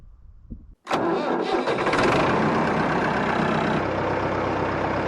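A Ford 3000 tractor hitched to a 273 square baler cranks briefly after a short low rumble, then fires and settles into a loud, steady diesel run close by on a cold, frosty morning.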